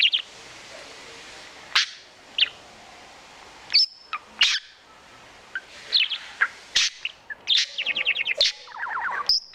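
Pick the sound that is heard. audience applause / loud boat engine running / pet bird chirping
pet bird chirping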